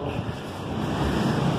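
Strong wind roars steadily into the microphone at the Hell Fire Club in Dublin, a low rumbling buffeting that swells slightly toward the end, with no voices.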